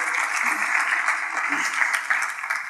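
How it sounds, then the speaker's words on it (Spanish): A church congregation gives Diana a warm round of applause after her testimony, sustained clapping filling the hall with a faint voice underneath. "¿Por qué no le damos un fuerte aplauso a Diana?"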